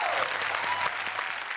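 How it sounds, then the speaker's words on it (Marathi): A studio audience on the Marathi comedy show Chala Hawa Yeu Dya claps loudly for choreographer Ganesh Acharya in a brief, dense burst of applause. "जोरदार टाळ्या कोरिओग्राफर गणेश आचार्य यांच्यासाठी"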